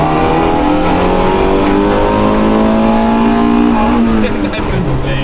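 A Honda accelerates hard in first gear, its engine note climbing steadily in a loud, rising rev with strong harmonic whine, shifting pitch briefly near the end.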